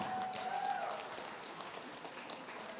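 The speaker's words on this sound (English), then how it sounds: "let's have a huge round of applause for these warriors" Crowd applause for the fighters at an MMA event after three rounds, a steady, even wash of clapping with no clear single claps.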